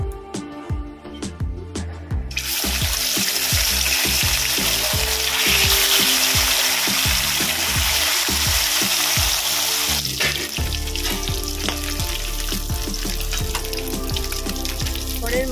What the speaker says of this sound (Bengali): পরের মাছগুলো একইভাবে ভেজে নেব।